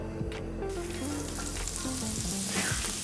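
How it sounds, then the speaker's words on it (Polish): Extra virgin olive oil heating in a hot frying pan gives a steady, close sizzle and crackle that runs throughout without a break, with no voices over it. "Na rozgrzanej patelni e, ląduje oliwa e, virgin."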